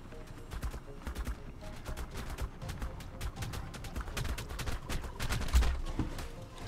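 Rapid gunfire crackles through a turkey fight in ARK, with many sharp shots in quick bursts that pile into a fusillade. The shots are moderately loud, with faint low thumps underneath.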